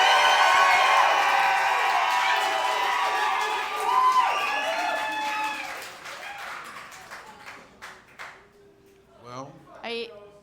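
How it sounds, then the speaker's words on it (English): Comedy show audience cheering and whooping loudly, a big roar of voices and clapping that gradually fades, followed by scattered calls and a few spoken words at the end. "with 111 decibel cheer, you did it"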